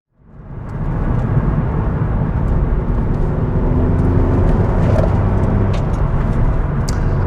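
A Mk7 Volkswagen Golf GTI on the road, its engine and tyre roar building quickly from a quiet start into a steady, loud, close drone with wind noise, no talking.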